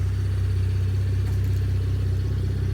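A 2013 Cadillac CTS fitted with a K&N cold air intake and an X-pipe idles steadily from a few feet away, a smooth low engine hum with a faint even pulse and no talk.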